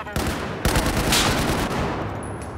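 Sustained automatic gunfire rattles through a video game firefight, loud and dense bursts of shots running almost continuously for a couple of seconds.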